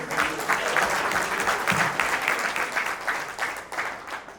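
An audience at a nursing school alumni anniversary gala applauds steadily, many hands clapping in a dense, even wash that carries on for several seconds without a break.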